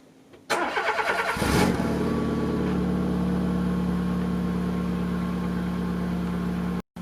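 A Peugeot 106 1.1-litre engine cranks briefly on a cold start and catches, then settles into a steady, slightly uneven idle close by before cutting off abruptly.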